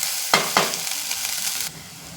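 Cowpea (bobbarlu) pulao with spices stirred in a pan, two quick scraping strokes over a continuous close sizzle that cuts off abruptly near the end.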